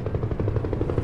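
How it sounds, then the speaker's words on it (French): A helicopter approaching in the video game Detroit: Become Human gives a steady, rapid rotor chop, a brief moderate burst of rhythmic blade thumping with no talk. "Ah, hélicoptère à l'approche."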